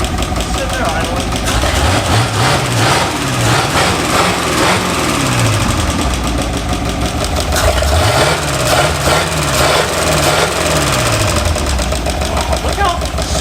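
A big old Buick V8 engine, revived after over 40 years abandoned, idles loudly and close by, with a lumpy, rhythmic rumble and swelling revs.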